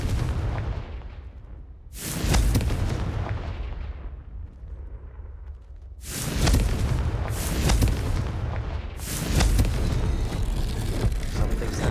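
Booming explosions from the Confringo spell in a Harry Potter video game, several loud, rumbling blasts in succession, each followed by a decaying roar.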